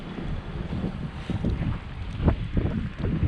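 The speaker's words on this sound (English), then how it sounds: "It's always windy." Steady wind buffeting the microphone in Astana, Kazakhstan, a low rumbling roar with gusty surges throughout, no voices.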